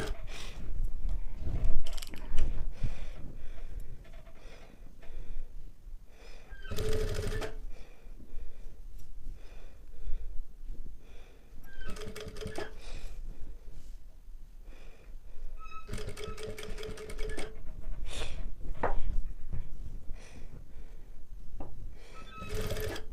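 A sewing machine stitches a blouse collar with buckram interfacing, running in short bursts of mechanical whirring and clatter separated by pauses, close and moderately loud, with no talking.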